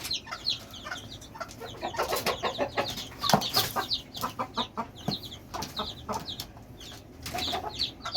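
A mother hen with newly hatched chicks in a pen, close, busy high peeping from the chicks in quick bursts mixed with the hen's soft low clucks, fairly quiet and continuous.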